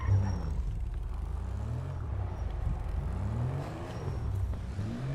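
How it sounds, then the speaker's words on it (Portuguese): A car engine revving in a video game, a steady rumbling drone that rises and falls in pitch through repeated revs, moderately quiet, with no voices. "Vamos só de vir ronco desse motor."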